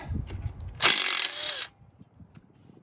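A ratchet with a 10mm socket works a bolt loose on a 2012-2017 Toyota Camry during a rear strut job: one close, loud burst of clicking ratcheting lasting just under a second, followed by quiet.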